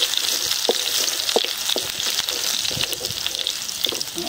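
Chopped garlic and dried red chillies fry in hot oil, a dense, steady, close sizzle with crackling pops and light stirring, and no one talking.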